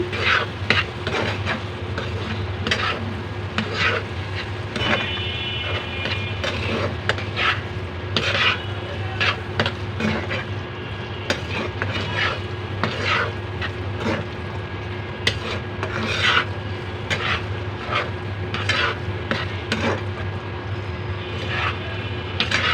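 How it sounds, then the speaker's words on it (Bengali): Pangas fish and dried-fish bharta mixture is stirred in a pan with a spatula, making continuous scraping and tapping strokes against the metal over a soft sizzle, close and fairly loud throughout. "এটাকে আমি ভালো করে মিক্স করে নেব"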